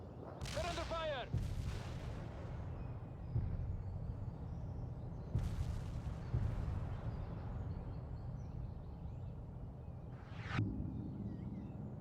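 Artillery strikes pound a river crossing in the war game World in Conflict: a handful of sharp, distant booms, some with rising whistles, over a continuous low battlefield rumble.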